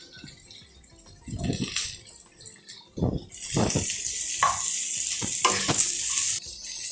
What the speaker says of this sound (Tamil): ஒரு 2 மினிட்ஸ் எல்லாமே சேர்ந்து நல்லா வதங்கட்டும்